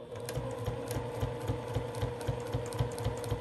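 A sewing machine with its standard presser foot stitches binding onto a table runner, a steady rhythmic mechanical whir and tick repeating quickly and evenly, close and alone.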